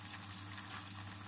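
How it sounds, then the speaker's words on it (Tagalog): Fish frying in hot oil gives off a faint, even sizzling hiss, steady and unbroken over the short stretch, with no talking. "Yan, ilagay ko na ang aking isda. Yan po ako magprito"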